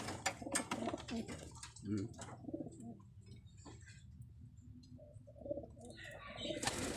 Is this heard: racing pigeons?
yes